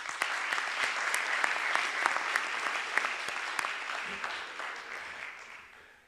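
A room full of people at a network operators' conference claps steadily for several seconds, then the applause gradually fades out.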